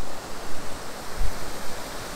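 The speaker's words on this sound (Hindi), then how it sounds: "ये बहुत ही खूबसूरत सा एक झरना है यहाँ पे" Waterfall on the Kalsubai trek in Maharashtra, a constant loud rushing and splashing of falling water, close and steady with no voices.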